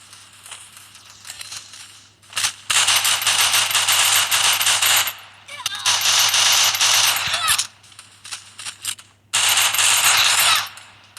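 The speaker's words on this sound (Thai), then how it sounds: "ยิงกันแล้วจังหวะนี้จังหวะนี้ยิงกันแล้ว" Gunfire from the Free Fire video game in Stake Out mode, rattling in three dense automatic bursts of a couple of seconds each, separated by quieter gaps with faint game sounds.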